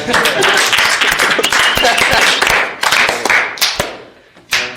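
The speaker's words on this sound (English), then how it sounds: "Everybody give a round of applause." A JROTC classroom group breaks into loud, dense hand clapping that thins out and fades over the last second, with voices mixed in.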